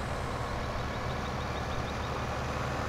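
A tractor in Landwirtschafts-Simulator 15 pulls away with a steady, dense engine drone that holds at an even level throughout, accompanied by faint repeating high beeps.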